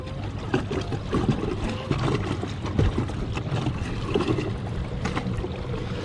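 A Slayer Max fishing kayak under electric motor at half throttle, about four miles per hour, rolls through boat wakes, with steady water rush and slapping splashes against the hull at close range and no talk.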